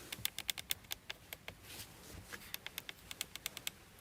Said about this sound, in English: Nice clicking sounds at the buttons here at the steering wheel, especially at these switches that you can pull